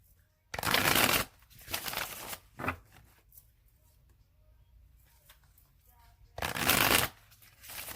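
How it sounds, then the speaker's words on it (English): Tarot cards being riffled and shuffled in loud bursts, with quieter handling and soft talk between the shuffles. "I'm going to shuffle it 3 more times."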